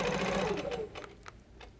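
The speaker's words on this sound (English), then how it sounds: "So I'm just going to stitch up, stop with my needle down, shift my template, line it up, and stitch down and back up." A sewing machine stitches a quilt along a template, its rapid mechanical chatter running close and steady at first, then slowing into a few separate stitches as it stops and starts.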